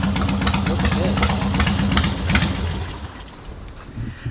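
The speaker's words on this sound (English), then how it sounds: "Like, that exhaust sounds good." A Harley-Davidson Sportster chopper with an upgraded exhaust idles with a throaty, pulsing exhaust rumble, fairly loud, with a voice talking over it; the engine note eases off toward the end.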